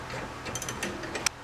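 A hand ratchet snugs bolts on a Super ATV lift kit for a RZR 800, a quick run of close, crisp clicking ratchet strokes ending in a sharp click.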